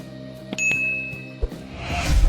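A notification bell effect: a bright ding rings out early and hangs in a sustained tone, followed by a few softer clicks and a swelling noise toward the end.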